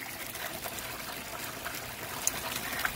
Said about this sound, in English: Alright, get the water flowing.